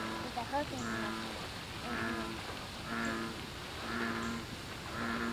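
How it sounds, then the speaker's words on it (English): Frogs give repeated croaking calls, roughly one per second, a steady pulsing chorus over a constant rushing background hiss. "The frogs, that's how they talk."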